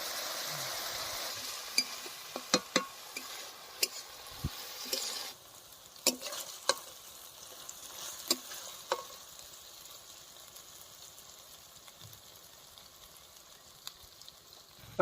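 Sabla (water lily stems) curry with salt and turmeric sautéing in a pan, a soft steady sizzle with scattered stirring clicks and scrapes of a spoon, close and fairly quiet, no talk.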